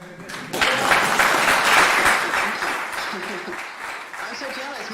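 Applause from a conference audience after a keynote talk on rainfall sensing swells quickly, holds for a couple of seconds and then thins out, with a voice talking over the fading claps.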